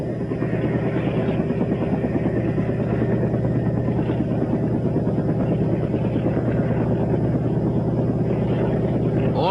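A helicopter carrying out a winter mountain rescue of frostbitten men, heard as a steady, loud rotor and engine drone that holds continuously throughout, with no voices.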